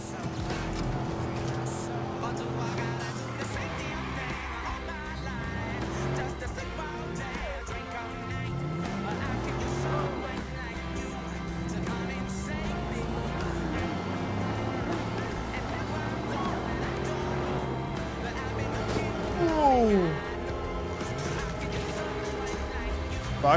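A car driven in the Watch Dogs video game: engine revving and shifting pitch as it speeds around, with someone talking over it throughout.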